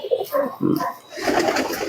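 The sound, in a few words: pigeons cooing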